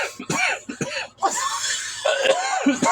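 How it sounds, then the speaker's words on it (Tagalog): A few harsh, bursting coughs mixed with throat sounds and brief laughter-like breaths, close and fairly loud. "Ano ba yan? Inuubo ka?"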